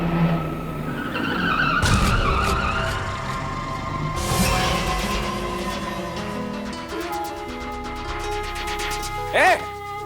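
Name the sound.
car skidding to an abrupt stop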